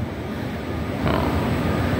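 Low rumbling train noise at close range at a station in Florence, Italy, a steady mechanical hum that swells a little halfway through, with a faint whine above it.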